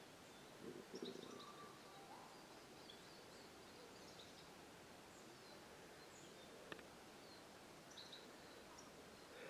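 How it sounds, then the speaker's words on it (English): Faint high chirps from small birds come and go sparsely over a soft, constant background hiss outdoors in Inverewe Gardens, Scotland. "Small chirping birds mostly."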